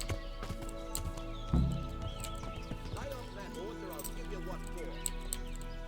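Horse in the video game Kingdom Come: Deliverance, a runaway from the stables, with clip-clop hooves and a sharp whinny near the start, then steady hoof steps over game music and ambient sound.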